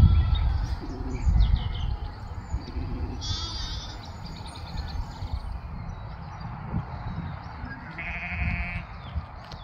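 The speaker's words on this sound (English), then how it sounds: "Oh, sheep." Sheep on a farm paddock during lambing season bleat several times in short, wavering cries, some near and some farther off, with birds chirping in the background.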